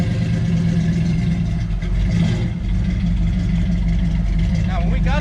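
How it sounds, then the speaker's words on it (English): A 1986 GMC utility work truck with a choke and badly retarded timing, its engine running loud and rough through an obnoxious exhaust, a close, continuous throbbing rumble. "why don't we start it up here, and we'll show you how loud and obnoxious the exhaust is"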